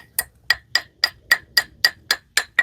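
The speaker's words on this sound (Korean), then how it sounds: "이렇게 두드리면은 화분도 안 깨지고 쏙 빠집니다." A hammer taps a flower pot ten times in a steady rhythm to loosen it for repotting, each knock a sharp, ringing, close strike.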